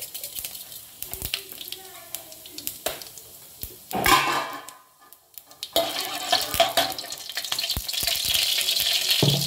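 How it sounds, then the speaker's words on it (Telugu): Cumin seeds tempering in hot oil in a pan, bursts of sizzling and crackling mixed with clattering, tap-water-like hiss and faint speech, getting louder and denser toward the end. "కొంచెం జీరా పోపు వేసుకోవాలి"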